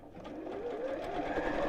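A sewing machine runs down the side of a fabric project in a steady mechanical whir, close and continuous, building slightly as it goes, with no speech over it.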